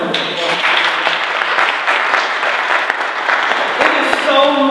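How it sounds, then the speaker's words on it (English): Sustained applause from an audience at an outdoor street naming ceremony honoring Claudette Colvin, loud and steady throughout, with a voice briefly speaking near the end. "let's just give them a round of applause"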